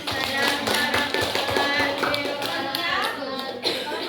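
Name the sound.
applause for group 4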